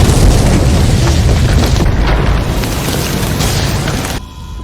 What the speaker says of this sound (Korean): 그는 결국 갱도를 폭파시켜버리죠.